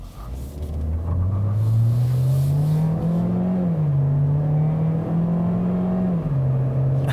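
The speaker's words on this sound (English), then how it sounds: "when you do floor it from a stop and then turn the wheel, of course it's going to spin its front tires" A 2018 Chevrolet Equinox 1.5-litre turbo engine roars loudly when floored from a stop, front tires spinning, its pitch climbing and then holding at a strained, steady high rev with a rumbling undertone.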